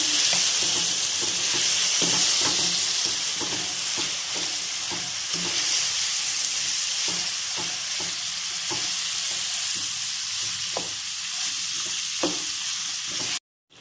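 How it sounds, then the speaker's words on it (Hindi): Whole spices and biryani masala roast in a pan for mutton biryani, a steady loud sizzle with regular scraping strokes of a spoon throughout, no voices. "मसालों को हम अच्छे से भून लेंगे"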